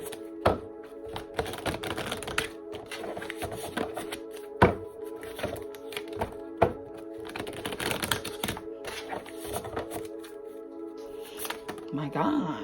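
Tarot cards are shuffled and flipped through in quick, uneven bursts of papery riffles and slaps over steady background music.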